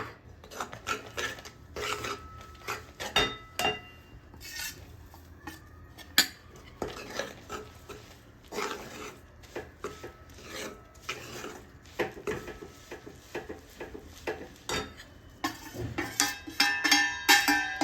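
A sesame and peanut mixture for til vadi is stirred into a hot pan, with repeated scraping and rubbing of a utensil against the metal and intermittent clinks, close and fairly quiet without talk.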